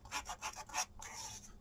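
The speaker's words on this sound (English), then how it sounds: "I have sanding paper," Sandpaper rasps on wood at a craft table in a few quick, quiet strokes, a rough scratchy rubbing repeated in short bursts and then drawn out once.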